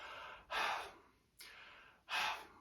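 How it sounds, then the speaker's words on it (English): Three audible breaths taken in and out through the mouth, each a soft breathy rush, close and quiet, with pauses between and no speech. "if you imagine I'm sort of either breathing in or out through my mouth"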